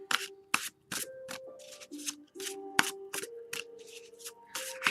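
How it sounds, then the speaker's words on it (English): Playing cards are shuffled again and again, close up: quick riffling bursts with soft taps in between, against a quiet hum. "so I'll just shuffle the deck"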